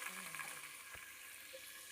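Chopped onions sizzling in a pan while cooking a Tamil karunai kilangu (elephant foot yam) kuzhambu, a soft steady frying hiss at low level with a faint clink partway through.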